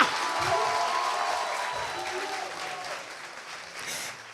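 A church congregation applauds to acclaim the Lord, a steady broad wash of clapping from a crowd that runs throughout and slowly tapers, with faint voices mixed in.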